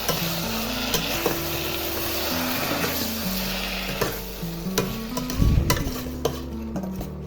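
Chicken manchurian with capsicum stirred in a pan, a close, steady sizzle with repeated scraping stirs and a brief louder burst of sizzling, over a faint background tone.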